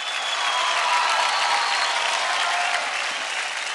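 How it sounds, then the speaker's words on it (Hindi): Loud, sustained studio audience applause rings out for a dancer after a performance on a televised Indian dance competition, a dense, even roar of clapping with faint crowd noise throughout. "जोरदार तालियां"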